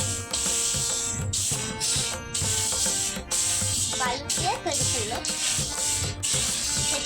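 Dried chickpeas are poured into a pan and dry-roasted the village way, giving a close, rattling, scraping clatter that comes in repeated rhythmic bursts with brief gaps, and a faint voice appears partway through.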